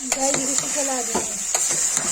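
Soya chunks are stirred in hot oil in a pressure cooker alongside potatoes, giving a steady close sizzle with spoon scrapes and clinks against the pot at irregular intervals.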